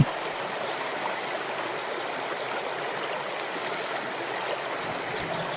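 Waterfall and stream at Curug Bidadari in Sentul, a steady, dense rush of flowing water that fills the scene at close range without a break, with no voices over it.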